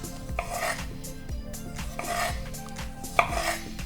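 A sharp knife slices down through tomatoes on a cutting board, giving repeated soft rasping cuts at a steady rhythm with a few sharper knocks against the board, close and moderately quiet, with no talking.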